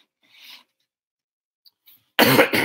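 A single hard cough bursts out near the microphone from a speaker with a lingering cough, after a soft breath and a few faint clicks in near silence.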